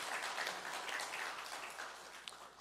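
A church congregation applauding a choir during a Sunday service, faint and distant, a soft even wash of clapping that slowly tapers off.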